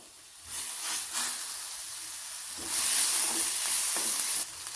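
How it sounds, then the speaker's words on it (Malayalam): Onions sautéing in a pan with chopped ginger, garlic and green chili, a steady close sizzle that swells as ingredients are stirred in, with brief scraping surges. "സവാള വഴന്നു വരുമ്പോൾ ഇഞ്ചി വെളുത്തുള്ളി പച്ചമുളക് ചെറുതായിട്ട് അരിഞ്ഞത് ചേർക്കാം"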